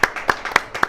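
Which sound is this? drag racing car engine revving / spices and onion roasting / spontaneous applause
spontaneous applause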